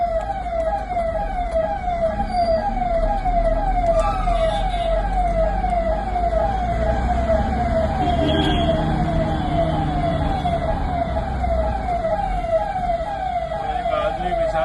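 An ambulance siren wails in a steady, rapidly repeating up-down cycle through congested Mumbai traffic, loud and close over a low engine rumble, with faint voices beneath.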